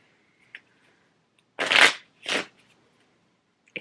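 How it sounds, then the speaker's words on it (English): A couple of quick riffle-shuffles of a deck of cards, crisp fluttering bursts close by, separated by a short pause, with a small click before and after. "So it's time to shuffle."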